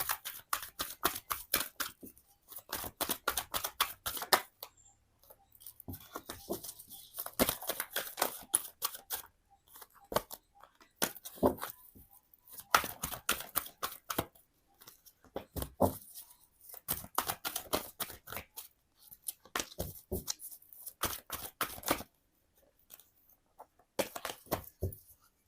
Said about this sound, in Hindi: जब तक करती हूँ मैं आपके कार्ड्स को शफल